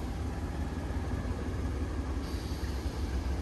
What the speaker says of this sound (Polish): Także czekamy, aż lokomotywa zmieni tor.